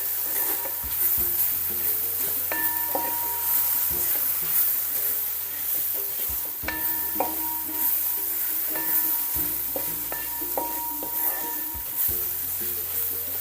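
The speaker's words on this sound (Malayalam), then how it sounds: "നാളികേരവും ചീരയും കൂടിയിട്ടൊന്ന് ചിക്കി" Grated coconut and chopped pathila leafy greens stir-fried for Kerala thoran in a hot pan: a steady close sizzle runs throughout, broken by repeated scraping and light metallic clinks of the spatula as it tosses.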